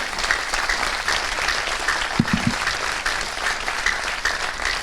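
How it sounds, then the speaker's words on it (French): Audience applause at the close of an inspiring talk, a steady dense wash of many hands clapping throughout, fairly loud and even, with a brief low thump partway through. "Vous pouvez encore l'applaudir chaleureusement"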